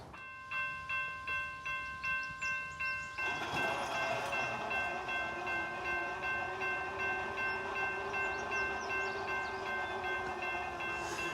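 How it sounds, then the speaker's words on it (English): A southbound CSX freight train loaded with coke rolls past trackside, its horn sounding in repeated pulses before the loud, steady rumble and clatter of the passing cars takes over. "We got CSX B 419 headed south with a load of coke bound for Madisonville, Kentucky."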